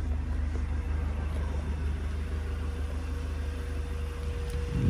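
A Mopar SRT turbo convertible's engine runs at a steady idle, a close, constant low rumble that holds evenly throughout with no talking.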